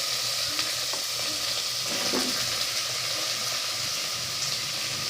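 Vegetables sauté in a hot pan for ginataang tulingan, a continuous loud sizzle with light scraping and stirring throughout.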